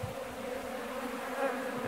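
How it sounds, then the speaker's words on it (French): Honeybees buzz during honey extraction, a steady droning hum with a clear pitched tone, moderately close and continuous with no voices. "vous allez entendre le bourdonnement"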